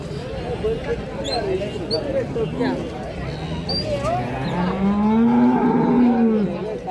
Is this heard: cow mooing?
yes